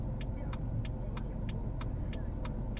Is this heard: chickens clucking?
no